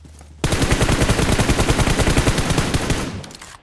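Rapid automatic gunfire in PUBG on the Sanhok map, a loud sustained burst of closely spaced shots lasting about three seconds after a brief quiet start, then tapering off.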